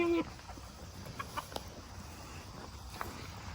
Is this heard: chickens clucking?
yes